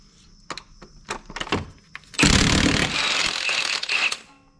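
Wrench loosening a 19 millimeter bolt on a 2001-2005 Honda Civic during a crank sensor job, several metallic clicks and knocks followed by a loud grinding, rattling burst as the bolt breaks free.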